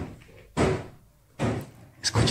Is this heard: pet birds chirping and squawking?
no